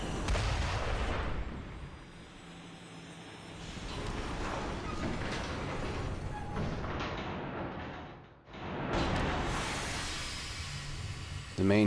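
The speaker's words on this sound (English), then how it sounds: "they are preparing to fire the Lazarus cannon" In the video game The Last Story, the Lazarus cannon fires in loud booming blasts over a rumbling, hissing battle soundscape, with a brief drop to near silence before another heavy burst.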